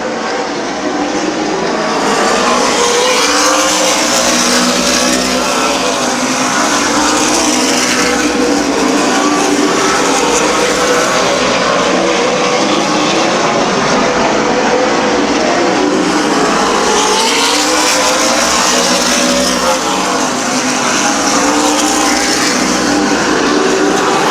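Race cars roaring around the oval at Midvale Speedway during an August 2006 race, a loud continuous engine drone that swells and recedes as the cars pass, with no talk over it.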